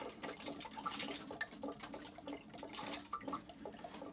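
Coolant drains from a tilted water-cooled PC radiator with faint, close gurgling and slurping like a straw, bubbly trickles continuing steadily.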